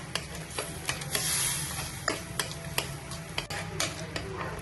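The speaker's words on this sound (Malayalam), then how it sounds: "ഇളക്കി യോജിപ്പിക്കുക" Kerala inchi curry with green chillies is stirred in a pan with repeated scraping and clinking strokes over a soft bubbling sizzle.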